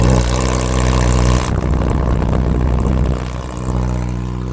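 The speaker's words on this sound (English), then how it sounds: "I'm gonna show you what it sounds like when you start the bike with it wide open." A loud 2026 Kawasaki Ninja ZX10R engine starting close by with the exhaust flapper removed, a steady harsh exhaust roar that shifts in tone partway through, then settles into a rough idle.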